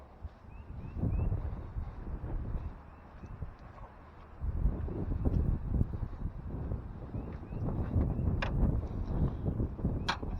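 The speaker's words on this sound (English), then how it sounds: "It's very windy today" Gusty wind buffets the microphone outdoors, with low rumbling surges rising and falling, plus occasional light clicks and knocks nearby.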